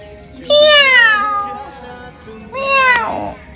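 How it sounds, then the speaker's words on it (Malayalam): A cat meows twice up close, a long loud rising-falling cry followed after a pause by a second shorter meow, over a quiet background. "കാന്തർച്ചാൻ്റെ പേരിൽ ഒരു പൂച്ച"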